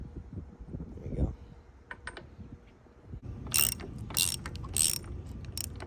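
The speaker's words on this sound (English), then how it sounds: "Just tighten these riser studs in the springer." Riser studs are tightened into a motorcycle springer fork with a ratcheting tool, giving quick metallic clicks and ratchet bursts that grow louder toward the end, close by.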